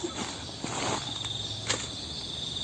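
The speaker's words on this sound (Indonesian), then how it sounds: "Pasti ini jangkrik lah." Cricket chirping outdoors, a thin steady high trill with a couple of brighter bursts, heard alone over faint background rustle.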